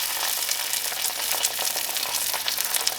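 A tortilla cooks on a hot griddle with a close, steady sizzle and crackle that holds at an even level throughout.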